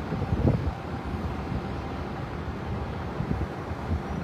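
Steady, heavy wind roars and buffets the microphone outdoors at a large fire in Isla Puting Bato, Tondo, Manila, a dense low rushing noise with occasional gusts.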